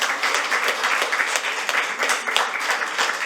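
An audience at a legislative forum applauds in a steady, fairly loud burst of clapping with no speech over it.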